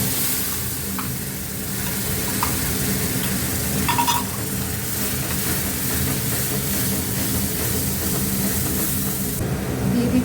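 Onion paste frying in a pan with cardamom, a steady broadband sizzle that holds evenly throughout, close and fairly loud, with a few brief clinks and stirring sounds and no talking.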